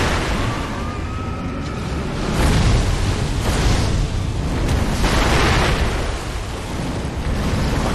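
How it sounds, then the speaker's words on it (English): Repeated booming blasts of fireworks burst one after another over a dense, noisy soundscape in the video game Sekiro, loud and close. "Missed both of those fireworks."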